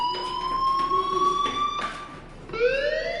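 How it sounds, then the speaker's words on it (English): A fire alarm rings in the video game Life Is Strange with a steady electronic tone and pulsing beeps, loud and continuous, shifting to a higher rising tone near the end. "Hey, do you hear that fire alarm? That means you should be outside."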